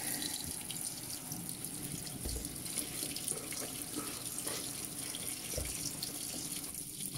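A Panasonic Ag+ 16 kg washing machine filling with more water, a steady faint hiss and trickle of inflowing water running continuously, with a couple of low thumps and no talking.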